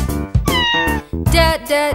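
A cat meows several times, clear and close, in drawn-out, wavering calls with short pauses between them, over a child's phonics song.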